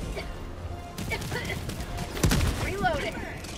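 Gunfire in the video game Helldivers 2 as shots hit the ground, a burst of sharp cracks and impacts amid game noise, with people talking over it.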